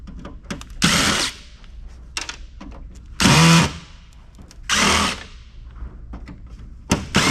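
A power drill backs screws out of a metal Alienware PC case, giving three or four short whirring bursts of about half a second each, separated by small clicks and handling noises.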